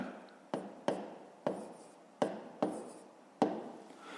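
Hand-writing an equation for a fifth-grade math exercise, a pen or chalk tapping and scratching in six short distinct strokes with brief scrapes between, close and fairly quiet, with no talk.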